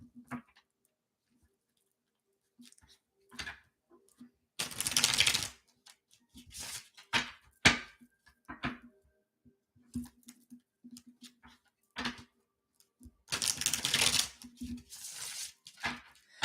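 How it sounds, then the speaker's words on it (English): Intermittent riffles and soft clicks of playing cards being shuffled close by, in short bursts separated by quiet pauses. "I have my cards ready to go. So I'm going to do some shuffling"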